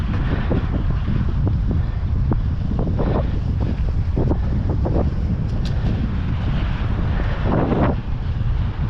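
Strong wind buffeting the microphone on a mountain bike trail in a park, a loud continuous roar with scattered rustles and knocks from the ride, no talk.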